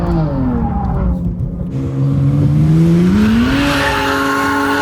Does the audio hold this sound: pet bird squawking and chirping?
no